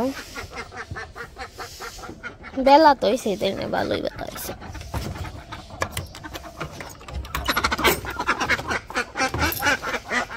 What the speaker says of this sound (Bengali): এখন হচ্ছে হাঁস ছেড়ে দিব